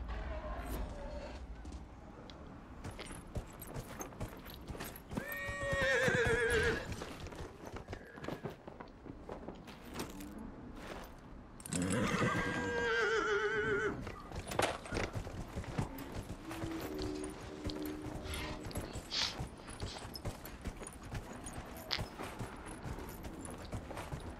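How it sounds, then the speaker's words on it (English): In the video game Dragon Age: Inquisition, rhythmic hoofbeats clatter steadily as a horse gallops, with brief whinnies and whooshing effects rising over the drumming footfalls. "Press left stick to gallop."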